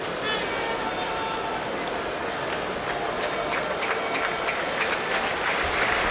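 Steady, broad crowd applause fills a football stadium during a legends match between Manchester United and Real Madrid, greeting Luis Figo as he is substituted, with a commentator talking over the continuous clapping.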